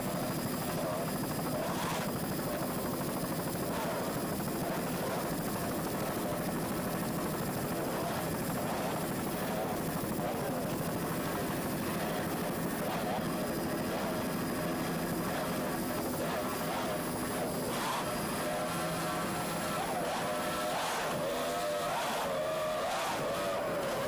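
Three 2.5 EFI outboard engines roaring continuously on an Intense Marine racing powerboat at the 1993 Islamorada Budweiser 100, a loud, steady high-speed drone with some wind and a faint voice underneath.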